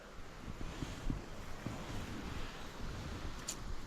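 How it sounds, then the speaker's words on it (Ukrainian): Strong wind buffets the microphone on a fishing outing, a continuous roaring rush with gusty low rumbles and no voices. "Вітер просто шалений."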